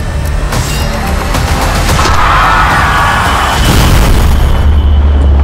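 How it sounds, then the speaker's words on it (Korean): A bomb blast from a Korean thriller movie trailer about a noise-triggered sound bomb: a loud, sustained booming roar with rumbling bursts filling the whole stretch, no voices over it. "이게 소음에 반응하는 소리 폭탄입니다"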